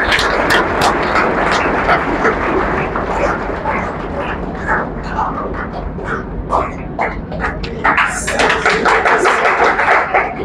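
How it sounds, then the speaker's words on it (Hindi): A prize-distribution audience claps at length in dense, steady applause, rising in intensity toward the end, with scattered sharper hand claps cutting through. "जोरदार तालियां बजाइए।"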